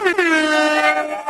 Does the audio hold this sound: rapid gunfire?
no